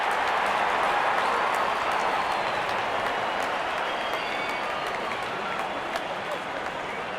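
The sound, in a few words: crowd applauding at Hong Kong versus Nepal cricket match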